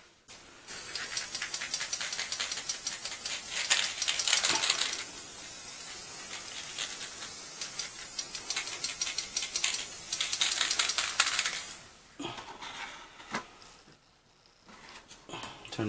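Plastic undercoat sprays from an aerosol can onto 1/72 scale plastic figures in a long, steady hiss that runs for several seconds, then stops briefly and resumes in shorter bursts.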